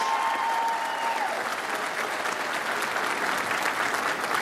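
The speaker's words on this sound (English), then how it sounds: "Let's have one more round of applause for all of your family members who are here today." Sustained audience applause fills a commencement ceremony at Queensborough Community College in 2010, a dense, steady wash of many hands clapping at an even level throughout.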